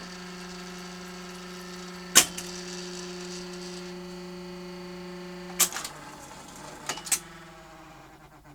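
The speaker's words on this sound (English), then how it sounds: "I'd say that either the capstan or the drum motor has got a knackered bearing" A 1978 Philips N1700 VCR-LP video recorder in play mode gives a steady mechanical hum with tonal whine from a capstan or drum motor with a worn bearing, broken by a few sharp clicks and clunks.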